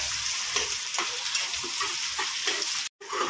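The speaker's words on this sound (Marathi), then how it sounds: "आता सगळा कांदा मी मस्त हलका गुलाबी रंगावरती फ्राय करणार आहे." Sliced onions frying in a pan for chicken biryani, a loud, close, steady sizzle with rhythmic stirring strokes and a brief dropout near the end.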